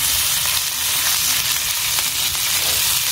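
Chicken tandoori sizzles loudly in butter in a pan, a dense, steady hiss close up with no talking over it.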